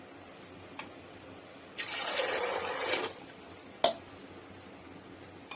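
Water from a glass is poured into a pressure cooker for cooking ragda, a short, soft splashing pour lasting about a second, followed by a few faint drips and light knocks.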